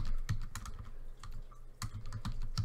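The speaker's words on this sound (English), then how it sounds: "I'm already tired of typing right here" Fingers type on a computer keyboard, a quick irregular run of close, crisp key clicks with a brief pause midway, nothing else heard.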